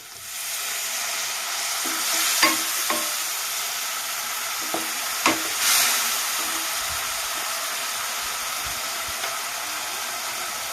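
Chili powder is stirred in a frying pan while cooking fish roe with pointed gourd, then water is added, producing a soft steady sizzle with occasional sharp scrapes and clicks of the spoon against the pan.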